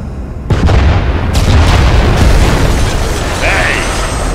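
Heavy explosions from an air strike run in the game Gears of War roll through as one sustained, loud rumbling blast with booming low-end and crackling debris, fading slightly toward the end.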